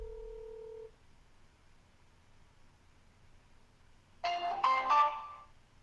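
A phone call goes unanswered, with a brief steady tone at the start, a quiet pause, then a short burst of bright ringtone notes near the end.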